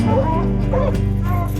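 Several hunting dogs bark and bay in a steady, overlapping chorus, loud and near, with a few higher yips breaking through.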